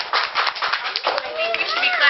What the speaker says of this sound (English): I think we should be clapping for you.